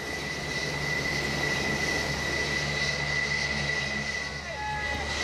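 An F-14 Tomcat jet approaches an aircraft carrier deck for landing, its engine a steady, continuous roar with a high whine held throughout, fairly loud and unbroken.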